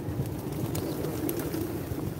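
Pigeons coo softly on a European street, their low murmuring calls mixed with steady outdoor ambience and wind.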